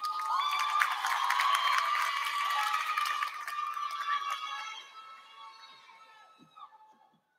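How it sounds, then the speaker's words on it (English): A crowd at the Cajon High School class of 2023 graduation ceremony cheers and shouts loudly, with applause underneath, before fading to a few scattered claps. "Big round of applause"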